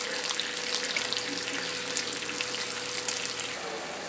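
Three strips of bacon frying in a pan, a steady close sizzle and crackle that runs evenly throughout with a faint low hum beneath.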